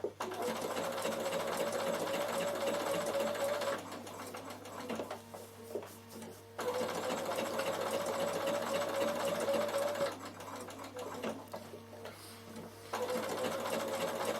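A Bernina sewing machine stitches in rapid, buzzing bursts, starting and stopping several times with brief quieter pauses between runs.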